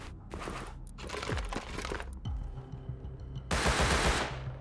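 Revolver gunfire in the survival game Rust: scattered sharp cracks through the first seconds, then a loud, dense burst of shots near the end, close and hard-edged over a steady low ambient rumble.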